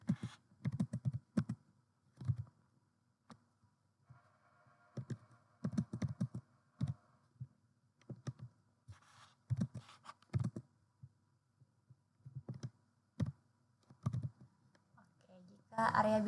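Data being typed on a computer keyboard into a decision-support application, with close, crisp keystrokes in quick bursts separated by short pauses and a few isolated clicks.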